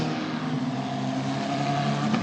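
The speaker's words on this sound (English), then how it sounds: "The safety car out onto the circuit." A car engine drones steadily and close at the Mugello race circuit during an Italian F4 Championship race as the safety car heads out, a continuous motor hum with broad road noise and no speech.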